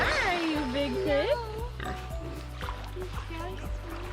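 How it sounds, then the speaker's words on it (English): A big pig grunts and oinks close by on the water beside a boat, mixed with excited voices talking and exclaiming over it. "Hi, you big pig."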